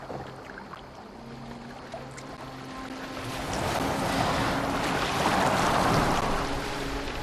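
A boat moving on the sea in Assassin's Creed Valhalla: a low drone and lapping water at first, then a broad wash of rushing waves and wind swelling up and holding steady, with no voices.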